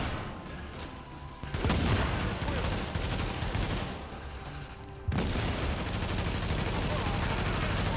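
Dense, sustained automatic gunfire in a shooter video game during a firefight with enemies, with two loud bursts starting abruptly and then roaring continuously at close range, and a voice talking under it.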